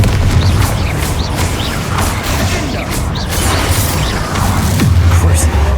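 Repeated Confringo blasting spells in Hogwarts Legacy on PC go off as dense booming bursts and crackling impacts over a constant low rumble, with a short lull before the blasts resume.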